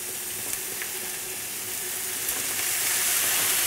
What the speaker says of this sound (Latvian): Ķiploks apceps, tagad apcepšu arī gailenes.